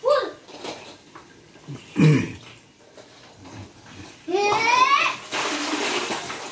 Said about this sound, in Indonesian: Airnya dikocok-kocok biar berbusa